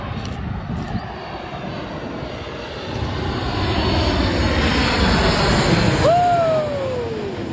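A fixed-wing airliner landing near Changi Beach, Singapore, its engine roar building into a loud, broad rumble that swells and lingers close overhead, with brief voices in the background.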